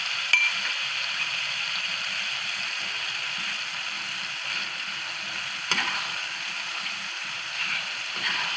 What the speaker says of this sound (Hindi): अच्छे तरीके से भूनेंगे इसको।